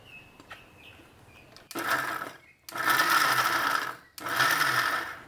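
A mixer grinder pulverizes baked bati for Rajasthani dal bati churma in three loud whirring bursts with short pauses between them.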